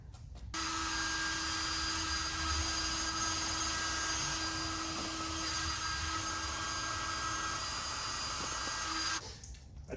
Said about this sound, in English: I typically like to use a hair dryer in lieu of the heat gun.